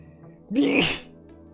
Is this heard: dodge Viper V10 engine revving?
no